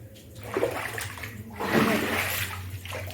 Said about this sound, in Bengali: এই যে সব এখানে জলে তুলে তুলে রেখেছি সব এই যে জলে এখনও ভাসছে এগুলো দেখো ঘরের মধ্যে কত জল